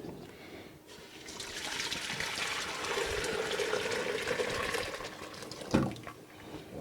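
Chicken soup broth pours back into a pot in a continuous liquid splash and trickle lasting several seconds, close and moderately loud, ending with a small clunk.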